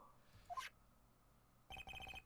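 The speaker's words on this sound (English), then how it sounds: "what's this stupid sounding ringtone?" A synthetic phone ringtone in the video game Phoenix Wright trills in a quick repeating burst of bright tones near the end, after a brief chirpy blip earlier, fairly quiet overall.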